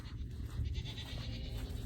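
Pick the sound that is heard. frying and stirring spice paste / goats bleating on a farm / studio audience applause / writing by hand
goats bleating on a farm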